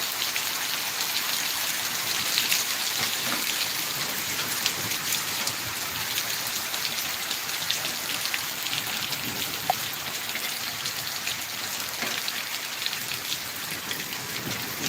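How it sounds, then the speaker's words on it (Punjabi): Heavy rain mixed with large hailstones pours down outdoors in a dense, unbroken roar of drops striking the ground. It stays loud and constant throughout, with no one speaking. "ਮੀਂਹ ਬਹੁਤ ਤੇਜ਼ ਆ ਨਾਲ ਹੋ ਰਹੇ ਨੇ ਗੜੇ"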